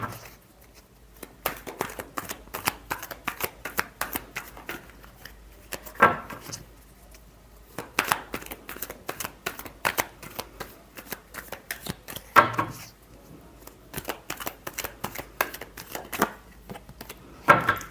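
Tarot cards being shuffled repeatedly, a steady run of crisp riffling bursts with short pauses between rounds, close and fairly loud with no talking.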